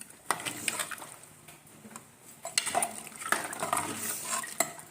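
A cooking mixture is stirred after crushed black pepper goes in: a spoon scrapes and clinks irregularly against a metal pot, quiet and close, with faint frying underneath and no voices.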